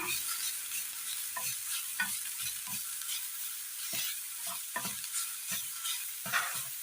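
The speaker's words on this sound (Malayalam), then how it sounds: "നെയ്യ് ഉരുകിയതിന് ശേഷം അല്പം ബീറ്റ്റൂട്ട് ഇട്ട് കൊടുക്കാം" Grated beetroot fries in melted ghee with a steady, bright sizzle, with soft scraping and stirring knocks at irregular intervals.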